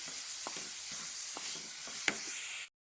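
Chili and chopped tomato sizzle steadily in a hot pan, a bright continuous hiss with a few soft stirring knocks, close and fairly loud, ending abruptly.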